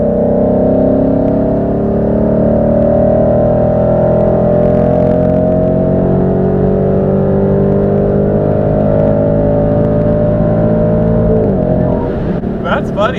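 A 2020 Ford Mustang is floored in sixth gear on a highway, with a loud, steady engine drone rising slowly in pitch over several seconds of continuous cabin sound, easing off near the end.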